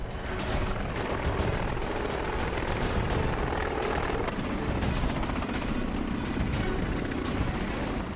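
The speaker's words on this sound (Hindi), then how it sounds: "इंडियन कोस्ट गार्ड का सिपहसालार एडवांस लाइट हेलीकॉप्टर MK3।" An Indian Coast Guard Advanced Light Helicopter MK3 drones steadily and loudly throughout, a dense continuous rotor and engine roar with no pauses or talk.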